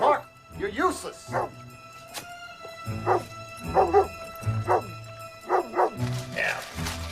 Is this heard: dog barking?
yes